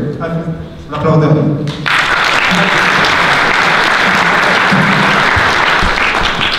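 At a Romanian marketing conference talk on affiliate marketing, a voice speaks briefly before a large crowd breaks into loud, continuous applause that stays full and steady to the end.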